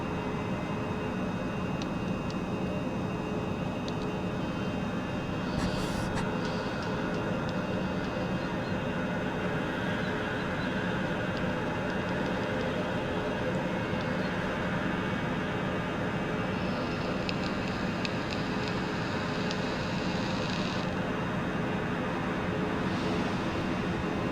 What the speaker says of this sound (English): You hear the engine's powering up.